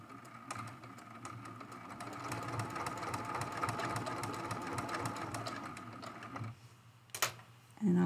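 A sewing machine stitching baby blue thread on a hummingbird mosaic art quilt, a fast steady mechanical whir of needle strokes running for several seconds before stopping, followed by a few clicks and handling sounds.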